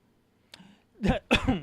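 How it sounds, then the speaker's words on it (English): A person coughs, a faint catch in the throat followed by two quick, close, rough bursts. "That was a genuine cough."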